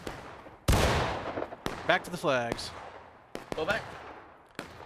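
Rifle volleys crackle in a War of Rights Civil War battle, loud sharp reports and scattered shots bursting repeatedly amid shouting players calling orders over the din.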